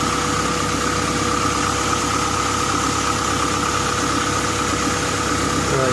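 A car engine idles steadily on its first start-up after an engine swap, a constant low rumble with a faint ticking texture, close and loud throughout.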